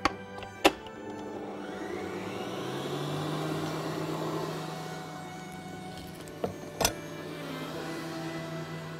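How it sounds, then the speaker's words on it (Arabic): An electric mixer whirs steadily as it beats brown sugar, oil and eggs together, its motor hum rising and easing, with sharp clicks at the start and again near the end. "وسكر البني والزيت، هنحطهم مع بعض ونضربهم التلاتة مع بعض"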